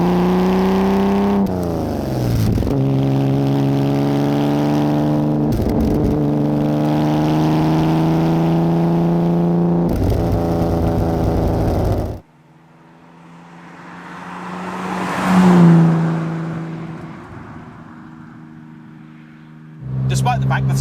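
A competition-spec Aston Martin DB4 classic car engine drones loudly and steadily with several gear-change dips, then eases off into a quieter whooshing pass before the engine note swells back in at the end.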